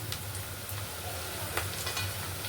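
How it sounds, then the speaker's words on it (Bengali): Cut potatoes frying in a pan for a fish-roe curry, a steady close sizzle with faint stirring scrapes and no talk. "আলুটা একটু ভাজা ভাজা হবে"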